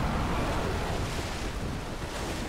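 Water and waves washing in the shooter game Call of Duty: Ghosts, a steady, loud broadband surf with a constant wash and no break.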